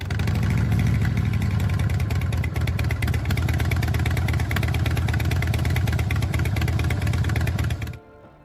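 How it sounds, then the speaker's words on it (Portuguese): A Harley-Davidson V-twin motorcycle engine idles close and loud, its uneven, loping exhaust pulse running steadily for about eight seconds before cutting off abruptly. "E esse também é o som patenteado do escapamento da Harley."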